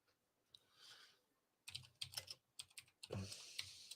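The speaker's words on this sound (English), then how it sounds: "I started typing her name and it popped up immediately" Fingers typing on a computer keyboard, quiet and close, with a couple of isolated taps, then a pause and a rapid burst of uneven clacking keystrokes.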